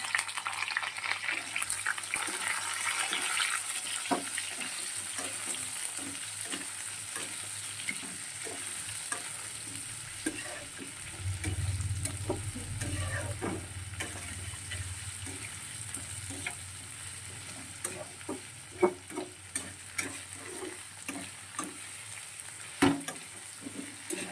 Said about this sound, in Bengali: আলুটা হালকা ভাজা ভাজা হয়েছে, এবারে পেঁয়াজ কুচি আর টমেটো কুচিটা দিয়ে দিলাম।